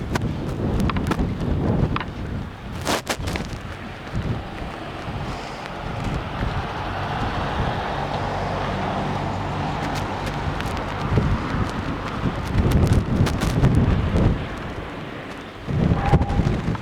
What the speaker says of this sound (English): When there's a strong gust, you can hear a whistling